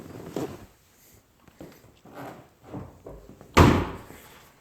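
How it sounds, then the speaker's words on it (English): Car doors and the hood of a Chevrolet Camaro are opened, giving a series of soft clunks and latch thuds spaced a second or so apart, ending in one loud, close slam, with no talking. "So I'll open all the doors,"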